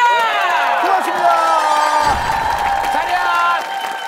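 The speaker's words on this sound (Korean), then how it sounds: "우리 발레리나 선생님들 여러분들, 큰 박수가 필요합니다!" A studio audience on a Korean talent-contest TV show cheers and applauds for a group of twelve ballet teachers, loud shouts and whoops over steady clapping, with voices rising and sliding throughout.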